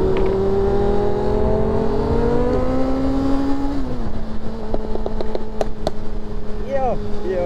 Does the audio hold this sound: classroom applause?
no